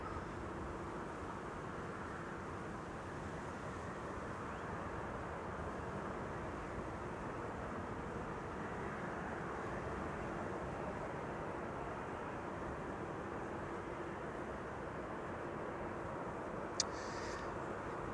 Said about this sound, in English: KLM flight 1502 arriving from Madrid.